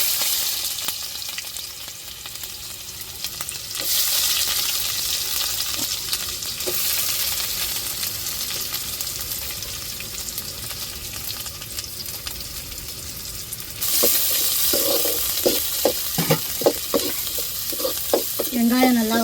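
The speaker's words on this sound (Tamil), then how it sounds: "இப்போ எண்ணெயை ஊற்றியாச்சு இப்போ கடுகு சேர்த்துக்கிடுவோம் இப்போ வெங்காயம் சேர்த்துக்கிடுவோம்" Mustard seeds and onion fry in hot oil with a continuous close sizzle that swells louder partway through and near the end, with a few sharp clinks and scrapes of stirring.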